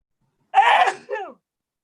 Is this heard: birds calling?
no